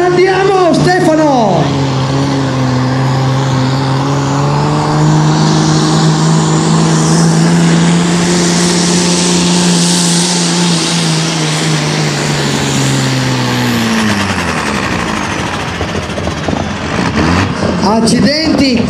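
Roaring turbocharged Roadrunner pulling tractor at a tractor pulling final, a loud sustained engine drone that holds steady and then drops in pitch as turbo pressure falls, with a commentator talking over it.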